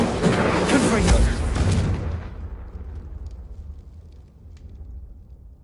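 Confringo and Incendio spell explosions in the video game Hogwarts Legacy roar loudly in overlapping booms, then the blast dies away into a fading rumble, with spoken voice mixed in.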